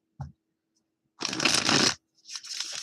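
Tarot cards shuffled by hand: a brief tap, then a loud close riffle lasting under a second, followed by a shorter, softer riffle, with quiet gaps in between.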